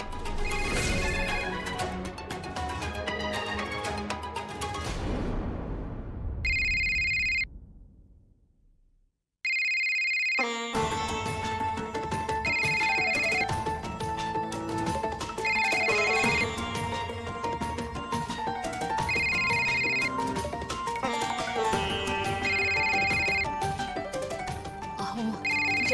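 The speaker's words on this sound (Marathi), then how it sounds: "त्यांचा फोन आहे." An incoming call on a phone in a Marathi TV drama scene: a repeating electronic ringtone melody plays loudly after a musical sting and short pause, its pulses recurring evenly over background score.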